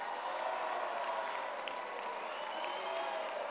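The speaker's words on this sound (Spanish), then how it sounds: "Quiero un aplauso para el gobernador de Durango." Crowd applause for the governor of Durango, Mexico, at a public government event, heard from a distance, a steady dense patter that holds evenly throughout.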